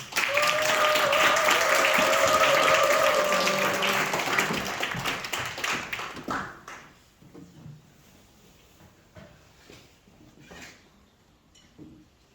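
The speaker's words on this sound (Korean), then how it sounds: "격려 담은 박수 부탁드립니다" An audience at a middle and high school festival applauds loudly for several seconds before the clapping thins out into scattered claps and quiet room noise.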